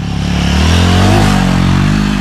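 A Royal Enfield GT 650 motorcycle revs hard while off-roading, its engine roaring loud and close with rising pitch throughout.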